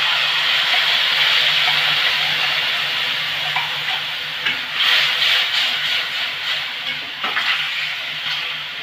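Tamarind pulp going into a pan of lightly fried garlic, a loud, broad, continuous sizzle that settles slightly and then flares with bubbling and stirring toward the end.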